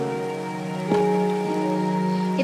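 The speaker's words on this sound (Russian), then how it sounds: "Нет, дождь. Только не это, проклятый дождь." Steady rain falls in the Minecraft video game, a constant hiss layered over a sustained tonal drone, with no talking.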